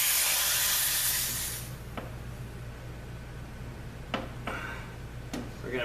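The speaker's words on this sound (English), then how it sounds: "I need to purge the air out of this red hose too" Air is purged from a red refrigerant hose through a valve core tool, giving a loud, close hiss of escaping gas for about two seconds, then quieter ticks and a few short bursts over a low background hum.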